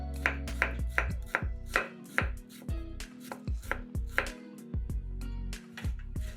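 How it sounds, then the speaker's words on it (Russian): A knife dicing a fresh cucumber on a cutting board, sharp rhythmic chops in quick irregular bursts, close and clear with no talking. "Нарезаем кубиками огурец."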